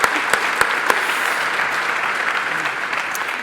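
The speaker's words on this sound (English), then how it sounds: "We can clap for that." Audience applause at a university State of the University address, a steady wash of many hands clapping that holds evenly throughout with a few sharper individual claps near the start.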